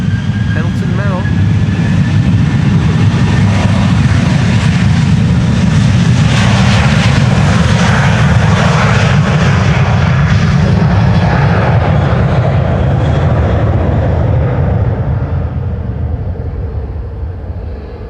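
A jet airliner roars at full takeoff thrust at Amsterdam Schiphol Airport, a loud, close, sustained rumble that swells and then slowly fades as it departs, with a voice speaking over it.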